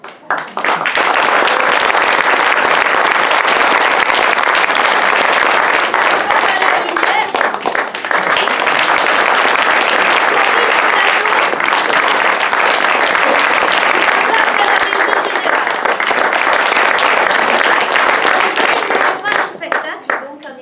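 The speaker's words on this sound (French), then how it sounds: "vraiment les applaudir très fort" Sustained, loud audience applause at the close of a women's theatre performance in Istres, dense steady clapping from many hands filling the hall for about twenty seconds, with voices faintly mixed in.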